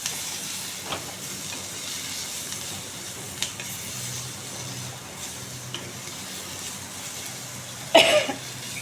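Food stirred in a pan over high heat gives off a faint, even sizzle and hiss, broken by a few light scrapes and one louder clatter near the end.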